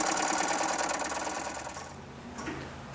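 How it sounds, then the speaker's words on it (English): A fuel pump on a military diesel generator runs with a fast, steady mechanical ticking that is fairly faint, then cuts off partway through, leaving a quieter hum with a short faint click near the end. "I can hear the fuel pump cycling on and off now, so that means that our day tank is full."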